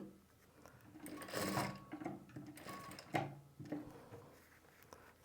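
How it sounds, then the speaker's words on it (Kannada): Stitching blouse piping, a sewing machine runs in short uneven bursts, quiet and close, with soft mechanical clatter between the runs. "ಸ್ಟಿಚ್ ಮಾಡ್ತಾಯಿದ್ದೀನಿ ನೋಡೋಣ"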